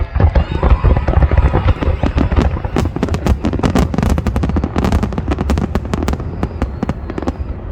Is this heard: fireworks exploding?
yes